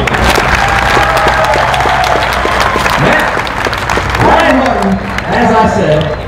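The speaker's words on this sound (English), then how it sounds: "put your hands together for John Odom" Crowd applauding and cheering for John Odom at a Street Outlaws No Prep Kings finals drag race, a dense wash of clapping under an announcer's amplified voice.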